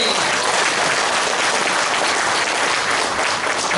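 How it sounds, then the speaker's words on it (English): Audience at a Dayak land-rights forum applauds, a dense, loud, steady wash of clapping from many hands that fills the room without a break. "Let us give him thunderous applause,"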